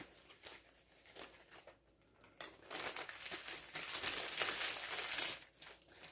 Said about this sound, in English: put in a plastic bag with a little bit of flour